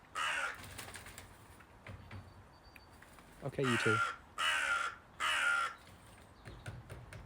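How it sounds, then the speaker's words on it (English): Crows caw in a garden in three loud, harsh bursts near the middle, with quieter calls around them, while a person talks briefly. "That's a little bit of crow aggro there."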